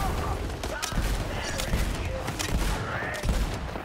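Rapid bursts of video game gunfire from Tiny Tina's Wonderlands crackle close and loud in repeated volleys, with game sounds and a voice mixed in.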